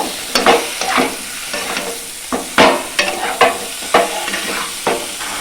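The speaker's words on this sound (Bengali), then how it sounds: "ভেজে রেখেছিলাম যে আলুটা, সে আলুটা দিয়ে দেবো আর ঝিঙেগুলো দিয়ে দেবো। দিয়ে ভালো করে আমি নাড়াচাড়া করে নেব।" A utensil stirs fried potatoes and ridge gourd in a hot pan, producing a series of loud scraping strokes with sizzling frying in between, repeated roughly every half second to second with no talk.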